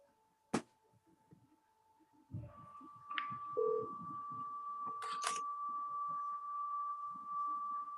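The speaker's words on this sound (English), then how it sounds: "RJ, we're calling you now on Marty's phone." A phone placing a call during a meeting gives a long steady ring-type tone with a few short beeps and clicks, fairly faint with some room noise.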